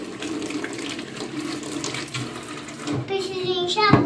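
Tap water runs into a sink while dishes are rinsed, a continuous splashing stream that grows louder toward the end, with a child and an adult talking over it.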